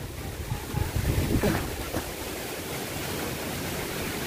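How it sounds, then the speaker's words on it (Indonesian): Strong gusting wind ahead of a typhoon roars across the microphone as a steady, broad rush, slightly louder and more buffeting in the first second and a half, then holding even. "Hari ini lumayan anginnya kencang."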